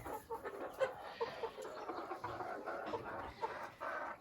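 Five roosters and several hens cluck and crow together in a busy, continuous chatter, close and fairly loud, with no talking.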